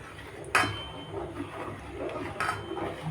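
Sago payesh with milk is stirred in a pot over a low gas flame, giving a couple of sharp metallic clinks of the spoon against the pot amid soft scraping, close and moderately quiet.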